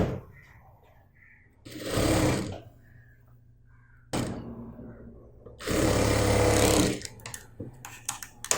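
A sewing machine stitches churi bottom fabric at a half-inch seam in two short, steady bursts, close and fairly loud, with quieter handling noise and faint room sound in between.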